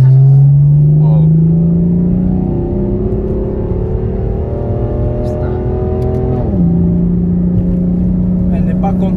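An 850 hp BMW M4 accelerating hard from inside the cabin, engine revving loud and climbing steadily, a brief dip at a gear change before rising again, with voices over it.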